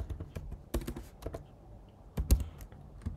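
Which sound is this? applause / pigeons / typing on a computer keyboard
typing on a computer keyboard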